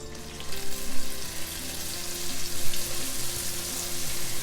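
Lumpia, Filipino egg rolls, frying in almost an inch of hot oil in a pan: a steady, close hiss and crackle that holds level throughout, with no voices.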